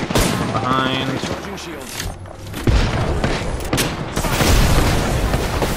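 Enemy gunfire in Apex Legends, with rapid bursts and heavy thumping shots rattling through a loud firefight while a game voice speaks over the action.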